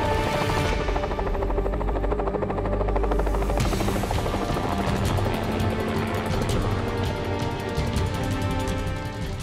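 Helicopter flying low over the Trigo Mountains near Yuma during a bighorn sheep capture, a loud, steady rotor chop and turbine drone that fills the whole clip with no talking.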